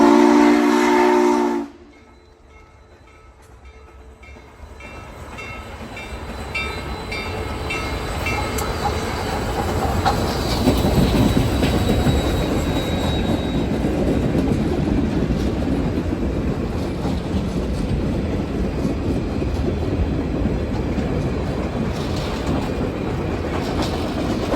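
US Sugar #148 steam locomotive running on the Florida East Coast Railway at a slow pace, a steady rumbling roar with clanking wheels building and holding loud for about twenty seconds after a brief quiet start, a faint whistle tone high above.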